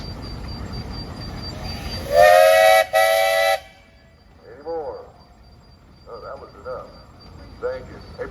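A steam traction engine at a threshing show parade gives two loud, sustained whistle blasts, the second after a brief break, followed by a quieter stretch with an announcer talking over a public address.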